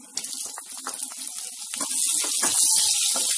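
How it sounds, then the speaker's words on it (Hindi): Asafoetida, cumin seeds and green chillies hitting hot oil in a pan for an Indian potato, carrot and pea curry, a steady close hiss that swells louder toward the end. "जीरा डालेंगे और साथ में हरी मिर्च डाल देंगे"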